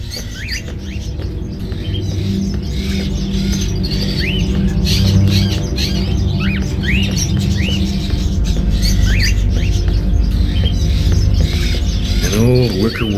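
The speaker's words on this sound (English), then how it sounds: "Are those crows in the cages?" Caged crows squawking and chattering in a quiet interior in Fahrenheit: Indigo Prophecy, with repeated harsh calls over a low ambient hum.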